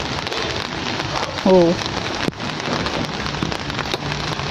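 Steady rain falls on a garden of Vietnam rose plants, a dense even hiss throughout with a brief spoken exclamation partway through.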